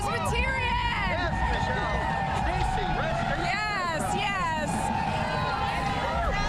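A crowd gathered for a hometown heroes parade fills the air with a steady babble of many voices, scattered whoops and cheers rising over the constant hum, with a voice speaking briefly nearby.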